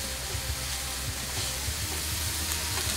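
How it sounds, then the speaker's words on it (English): Cheese dip stirred in a pot makes a continuous bubbling hiss with soft, repeated scraping and low thumps, even and unbroken, with no voices. "Get all our cheese in here. Stir it up."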